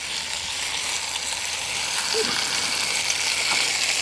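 Bacon frying in a titanium mess tin, a continuous close hiss and crackle of sizzling fat that holds steady throughout.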